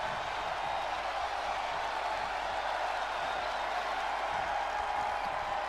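Steady, roaring crowd noise from a WWE 2K20 video game wrestling match holds without a break throughout, a dense cheering wash with no clear individual voices.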